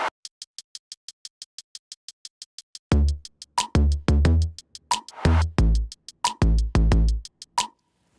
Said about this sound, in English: our song starts out with this pretty sparse hip-hoppy sounding kit that sounds like this